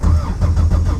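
A car engine turns over after sitting unused for a week, then runs with a steady, loud, close mid-pitched rumble through the whole second.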